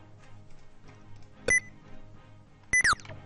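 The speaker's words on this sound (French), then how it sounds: "Excusez-moi du petit bip." Short electronic beeps from a computer during a Dofus game session: one sharp tone, then a quick double beep with a falling pitch, loud against a quiet background.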